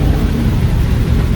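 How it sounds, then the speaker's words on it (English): Heavy rain pours down steadily during Hurricane Ian in central Florida, a dense, constant low roar near the microphone with no voices over it. "you can see rain is coming down a little more heavier now"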